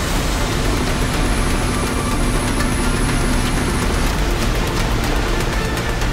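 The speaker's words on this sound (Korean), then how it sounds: "헬기를 이용한 공중진화 작업이 한창이지만 불길이 쉬이 잡히지 않는군요." A firefighting helicopter works over a burning forest, its loud, steady roar filling the whole stretch without a break and with no voices.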